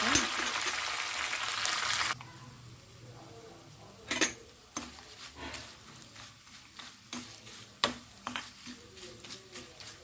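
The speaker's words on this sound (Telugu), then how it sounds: "పోపు అయితే వేగిపోయిందండి" A tempering of spices for cucumber dal fries in hot oil, a loud sizzle at first that quickly dies down, followed by scattered clinks and scrapes of a spoon against the pan.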